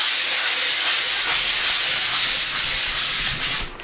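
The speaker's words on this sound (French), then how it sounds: "Il est en train de poncer la première couche." Furniture carrying its first coat of finish is sanded by hand, giving close, continuous, raspy scraping strokes at a steady rhythm with no talk.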